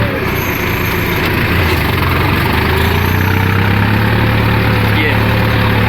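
A farm tractor engine running hard in a high gear during soybean sowing, a loud, steady, close diesel drone with a constant low throb that holds throughout.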